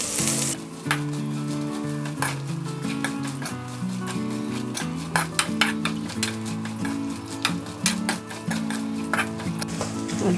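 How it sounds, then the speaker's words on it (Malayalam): A cup of grated coconut roasts with curry leaves in a pan for jackfruit erissery, a loud, constant sizzle punctuated by frequent clicking stirs, with music playing underneath. "തേങ്ങയും ഇട്ട് വേണം നമ്മൾ വറക്കാൻ."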